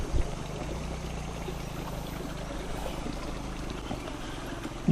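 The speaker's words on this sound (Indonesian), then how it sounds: "Ini aliran airnya yang dari atas" Clear stream water flowing down from higher ground at a savanna campground, a steady, even rush heard close by with no talking.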